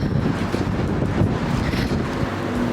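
Heavy wind buffets a Sony ZV-1F camera microphone in a constant low rumble, loud and unbroken throughout, outdoors at the When We Were Young music festival.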